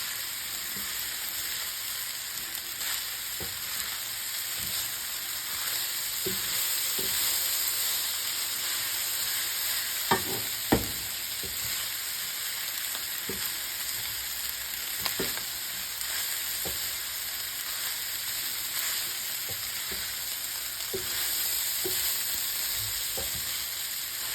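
Ham fried rice being stirred in a hot pan: a constant sizzling hiss with scattered scraping and tapping strokes from the utensil, one or two sharper clacks near the middle.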